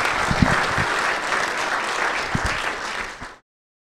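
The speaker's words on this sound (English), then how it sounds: "Why don't we give our 6 presenters a round of applause?" A room full of people applauds presenters at a state legislative town-hall stop, loud sustained clapping throughout before it is cut off abruptly near the end.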